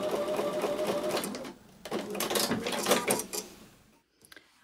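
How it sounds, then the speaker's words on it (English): A sewing machine stitches quilt block pieces together with a quarter-inch seam, its steady, close mechanical whirring running in bursts with a short pause early on and a stop near the end. "I'm going to take those to the sewing machine and sew with a 1/4-inch seam."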